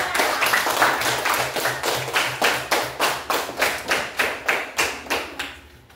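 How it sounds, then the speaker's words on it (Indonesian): Classroom audience claps for group 3, a steady run of sharp hand claps that slows into rhythmic unison bursts and fades out, close and loud. "Berikan aplaus untuk kelompok 3"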